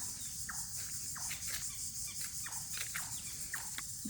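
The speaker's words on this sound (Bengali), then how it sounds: "পাখি আর পোকার ডাক শব্দ।" In an evening village setting, steady insect chirring from crickets fills the background, with short, faint bird calls scattered through it; a soft, continuous ambience with no talking.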